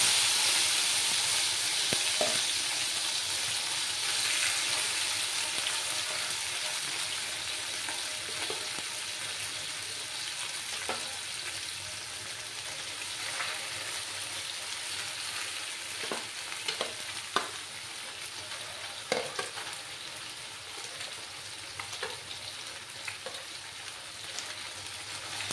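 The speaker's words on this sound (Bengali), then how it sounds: "মাছগুলোকে আমি একটু লাল লাল করে ভেজে নেব।" Small fish frying in hot oil in a pan, with a continuous close crackling sizzle and occasional sharp pops and spatula scrapes over the whole stretch, no one talking.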